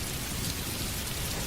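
Steady rain falling on a surface, a dense, even hiss of raindrops, close and continuous, with no voices.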